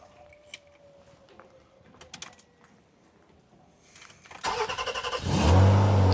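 A mouse-eaten barn-find Saab 900 sits quiet through a few faint clicks before the key turns, the starter churns briefly, and the engine catches and settles into a loud, steady idle close by.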